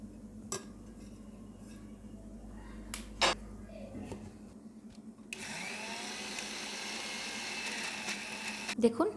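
A mixer grinder whirs as it grinds banana flower paste with onion, garlic, chilli and nigella seeds. Quiet clinks and taps come first, then the steady motor roar starts halfway through and runs to the end.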